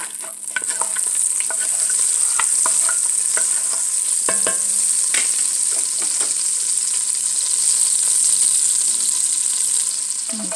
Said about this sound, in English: And I'm just gonna fry.